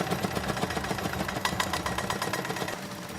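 A motorized seed thresher used for threshing dried crop stalks in seed production runs steadily, giving a dense, continuous mechanical clatter with fast rhythmic pulsing and no speech.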